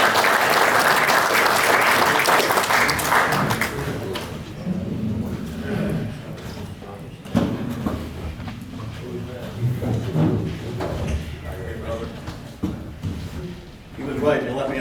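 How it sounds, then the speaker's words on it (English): Audience at a men's breakfast gathering claps loudly in a dense burst for about four seconds, then the applause drops away into room noise, footsteps and murmuring talk. "So let's give George a round of applause and bring him on up here."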